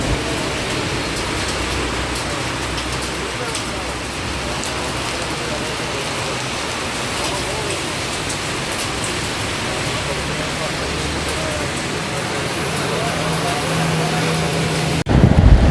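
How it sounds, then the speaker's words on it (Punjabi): Steady rain pours onto a mountain road on the route to Hemkund Sahib, a dense, even hiss that holds at close range for the whole stretch, with a brief louder burst right at the end. "ਵੇਖੋ ਮੀਂਹ ਦੇ ਨਜ਼ਾਰੇ"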